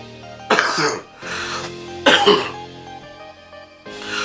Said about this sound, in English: started to cough